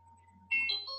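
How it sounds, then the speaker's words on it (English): An alarm sounds to signal that time is up: a faint steady tone, then a louder chiming electronic melody that starts halfway through and continues to the end, with no talk over it. "Oh, that's my alarm telling me that my time is up."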